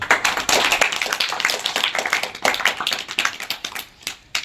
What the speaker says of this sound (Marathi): बापूजींचं पात्र एका विद्यार्थिनीने रंगवलंय तिच्यासाठी एका टाळ्या वाजव सर्वजण